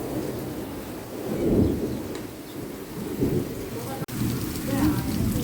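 Heavy rain roars steadily while low rumbles of thunder swell and fade, with a faint voice murmuring underneath.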